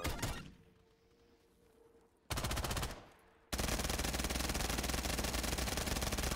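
Rapid automatic fire from an AUG rifle in Black Ops 3 Zombies, a short burst followed by a loud, sustained stream of gunfire, with no talk.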